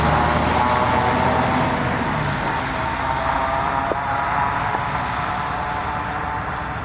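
An F-15 fighter jet with a Pratt & Whitney 229 engine roars as a loud, broad rushing drone that stays strong and steady, with no voices over it.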